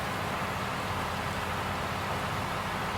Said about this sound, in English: I'm not quite sure what we're going to do today if this rain continues like this